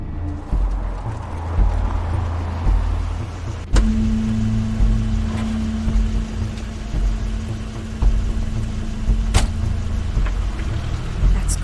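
A car idles and drives in a scene from the video game The Wolf Among Us, with a low steady engine rumble, a sustained hum and a few sharp clicks and thumps, and no talking.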